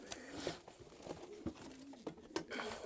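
Young pigeons from a breeder's loft cooing in short, soft repeated calls, close by and fairly quiet, with light rustling and pattering between the coos.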